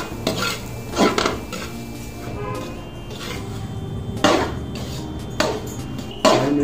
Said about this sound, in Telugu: ఇందులో ఉప్మా రవ్వ అంటే బొంబాయి రవ్వ వేయించుకోవాలి.